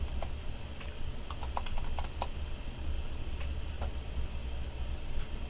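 Light, quiet typing on a computer keyboard, scattered key clicks in short irregular bursts over a steady background hiss.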